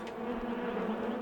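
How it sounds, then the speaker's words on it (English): A killer bee swarm sound effect, a dense, steady buzzing drone that holds close and fairly loud without a break, with no voices over it. "Killer bees loose in the studio."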